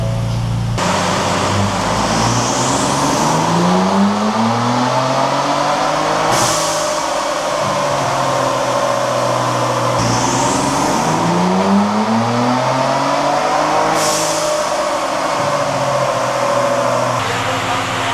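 A Ford Bronco Raptor engine on a chassis dyno during a tuning pull, revving hard in long rising sweeps, two full pulls climbing and dropping back, loud and close throughout with no talking.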